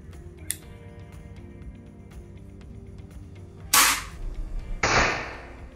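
A GK-Mini II gun with a 3-in-1 stock firing two sharp, loud shots about a second apart, each followed by a brief rattling tail, after a faint early click over a low background hum.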